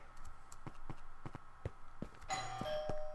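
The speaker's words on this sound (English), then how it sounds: "And the doorbell ring." A doorbell chimes in the video game Minecraft, a bright two-tone ring rising out of busy in-game clatter and footstep-like thuds toward the end, moderately loud.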